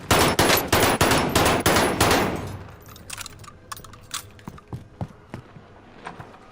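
Gunfire from the video game Warzone opens with a rapid, loud automatic burst of about ten shots. Scattered fainter shots and taps follow, more distant and sparse.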